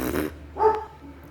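A dog gives a short growly bark followed by a brief whining yip, close and alone, over about a second.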